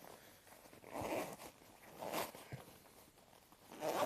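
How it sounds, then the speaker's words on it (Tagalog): A waterproof zipper on a Gore-Tex three-layer jacket with a nylon outer is drawn in several short, soft rasping pulls, close and fairly quiet, with faint handling rustle between strokes. "Waterproof yung zipper niyan."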